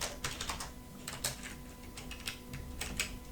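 Laptop keyboard keys clatter in quick, uneven bursts as a Lenovo T420 search is typed, close and fairly quiet with short pauses between runs of keystrokes.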